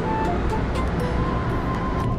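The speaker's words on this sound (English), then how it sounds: "Look, the waterfall!" Niagara Falls roars heard from a Hornblower cruise boat near the base of the falls, a loud, dense wash of rushing water that stays constant throughout with no voices.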